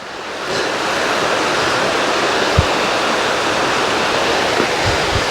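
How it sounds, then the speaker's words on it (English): A small river in Wicklow flows into a larger river, making a loud, continuous rushing and gurgling of water close to the microphone, with a few low thumps and some wind buffeting. "So the little river goes into the big river"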